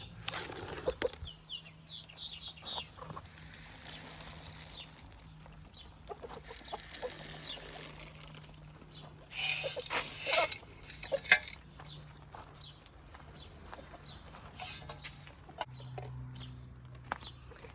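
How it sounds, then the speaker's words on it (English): One hen and one rooster cluck and murmur nearby with occasional wing flapping and scratching, a low steady hum underneath. "1 hen, 1 rooster in here."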